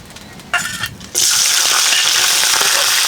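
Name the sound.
oil frying in a pan for vegetable bhaji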